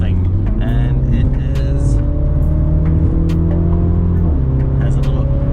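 A 2016 Mini Cooper John Cooper Works runs with a steady, low exhaust burble heard from inside the car, a continuous engine drone that shifts slightly in pitch, with people talking over it.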